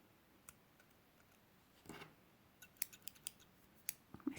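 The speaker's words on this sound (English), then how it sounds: "cut your yarn." A few quiet snips of slightly rusty scissors cutting yarn, with small clicks and handling noises in a quiet room.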